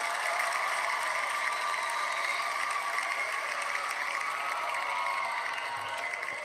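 Crowd cheering and applause sound effect played on a livestream, a steady dense wash of clapping and cheers at constant loudness throughout, with no talking over it.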